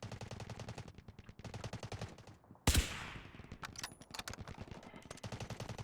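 A single sharp, loud sniper rifle shot bursts out midway through a firefight in the Delta Force Mobile shooter game, over steady rapid gunfire and game sounds.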